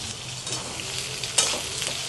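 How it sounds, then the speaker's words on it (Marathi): Masala for Puneri misal fries in plenty of hot oil in a pan. A steady, close sizzle and crackle runs throughout, with the faint scrape of stirring. "मसाला चांगला मेन म्हणजे तेलामध्ये चांगला भाजून घ्यायचा आहे"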